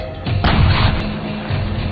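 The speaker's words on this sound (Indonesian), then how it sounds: "ia tetap melancarkan serangan meriam" A heavy boom bursts out and rumbles on, followed by a second dull blast, like cannon fire echoing at a distance.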